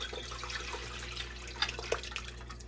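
Homemade Ukrainian borsch is poured into a 24-ounce jar, giving a soft liquid trickle and a few splashy drips over a low background hum, quiet and close.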